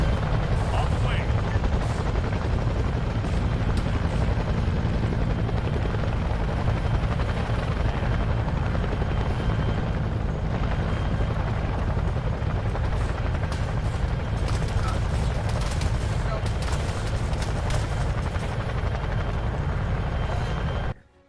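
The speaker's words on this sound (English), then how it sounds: "There's the Chinook" A Chinook helicopter in the military game Arma 3 gives a loud, continuous, heavy rotor roar for the whole stretch, with scattered bursts of gunfire mixed into the din.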